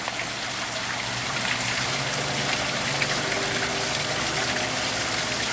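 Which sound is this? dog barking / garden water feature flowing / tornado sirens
garden water feature flowing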